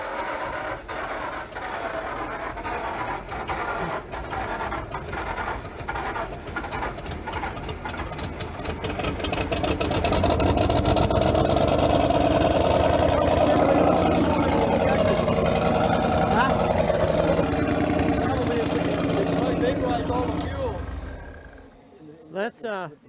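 An old racing engine for a salt racing team idles and spins freely, with a steady mechanical ticking that swells louder partway through and then winds down and stops near the end, while people talk nearby.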